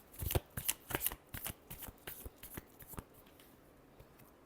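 Tarot cards riffled in a quick series of crisp, close shuffles that start loud and fade into softer, sparser flicks over about four seconds.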